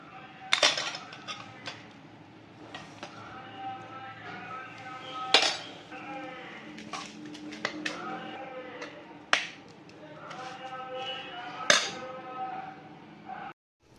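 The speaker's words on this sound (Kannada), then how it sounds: "ಇವಾಗ ಇದಕ್ಕೆ ರೈಸ್ ಹಾಕಿ ಮಿಕ್ಸ್ ಮಾಡೋಣ." Rice being mixed into tamarind gojju in a pan for chitranna, with repeated scraping and clinking of a metal spoon against the pan over a steady background hum, plus several sharper clanks spread through the stirring.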